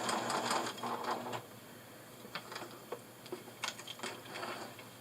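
A sewing machine back-stitches the start of a seam on a dog bandana, giving a quick, faint burst of ticking, followed by soft scattered clicks and taps nearby.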